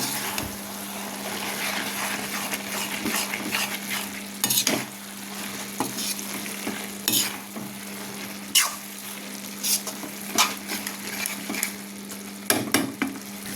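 Cabbage curry being stirred in a pan, a soft ongoing sizzle broken by repeated scraping and clattering strokes of a spatula, with a steady low hum in the background.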